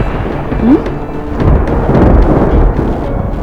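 A low, rolling rumble of thunder before rain sounds in a TV drama scene, steady and fairly loud, with no voices over it.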